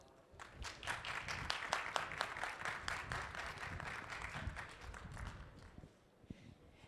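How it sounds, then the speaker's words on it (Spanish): An audience at a book presentation breaks into applause, dense steady clapping from a moderately distant crowd that holds for several seconds and then tapers off. "Un gran aplauso, por favor."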